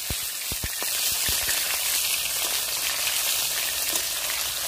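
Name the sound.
katla fish pieces frying in oil after being flipped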